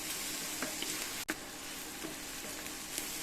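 Mixed vegetables sauté in a pan for a chutney with a soft, even sizzle. Faint stirring clicks and one sharp knock break through near the middle.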